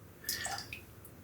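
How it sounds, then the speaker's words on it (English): A shaving brush dipped into water before lathering from a soap puck in an aluminum shaving mug, giving a brief soft splash and drip mid-clip, quiet and close, with no talking. "Let's just dip the brush into water."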